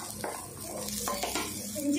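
Ginger sizzles softly in a pan for an egg curry while a utensil scrapes and stirs it, producing quiet scraping strokes over a steady frying hiss.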